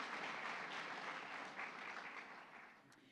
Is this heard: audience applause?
yes